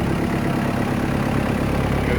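A 1994 Toyota Land Cruiser KZJ77 with a 3.0L turbo diesel, 5-speed, and custom stainless exhaust with dump pipe idles with a steady, even low rumble, close and alone.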